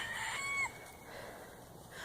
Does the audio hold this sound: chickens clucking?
yes